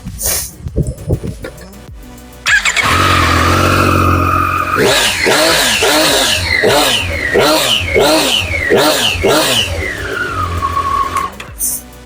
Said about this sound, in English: So let you hear what the bike sounds like.